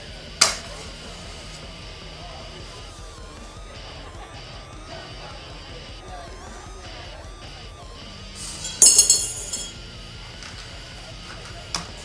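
A match is struck close by next to a glass bottle during a bar trick with a coin, giving a brief scratchy flare over a low, noisy room background, with a sharp tap heard earlier.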